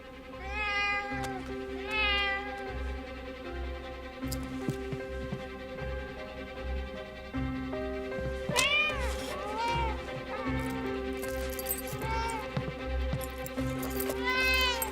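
Several domestic cats meow repeatedly, mixing drawn-out wailing cries with shorter mews over a steady, droning background, with no speech.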